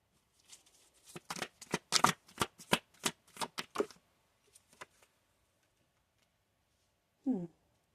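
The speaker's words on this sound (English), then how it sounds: "I need to pull some more cards on that." Tarot cards are shuffled close up in a quick run of crisp riffling bursts that lasts several seconds. The shuffling then stops, and a short voice is heard near the end.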